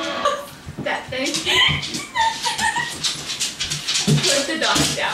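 A dog whimpers and yips in repeated high, short cries, close and fairly loud, mixed with overlapping talk and commotion from several people.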